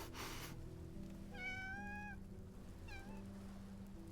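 A cat in the video game Love and Deepspace gives two soft meows, a longer rising one and then a short one, quiet over a steady ambient background hum.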